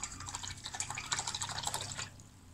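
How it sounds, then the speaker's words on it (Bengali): A face-painting brush swished and rinsed in a cup of water, giving a continuous run of close, light splashes and drips for about two seconds before it settles quieter. "এখন আমি যেটা করব এটাকে ধুয়ে ফেলবো"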